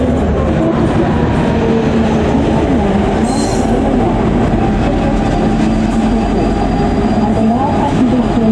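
A Northern Ireland Railways train rumbles loudly and continuously at a station platform, with low rolling wheel noise, a faint squeal partway through and a brief high hiss; no one speaks.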